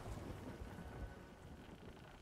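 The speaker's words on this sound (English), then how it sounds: "We just got struck by lightning" A heavy thunderstorm rages at sea in the pirate game Sea of Thieves: dense rain hisses steadily while a deep thunder rumble from a lightning strike rolls loudest at the start, then eases slightly.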